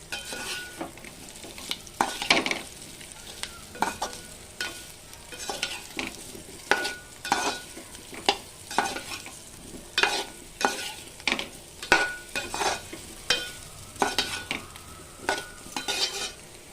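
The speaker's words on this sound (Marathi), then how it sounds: "हे टाकून छोटे छोटे तुकडे टाकून थोडं परतून घ्यायचं आहे." Small pieces of vegetable being sautéed in a pan for a fasting-day dish, with a spatula scraping in a steady, repeated rhythm over a light, continuous sizzle, close up and with no talking.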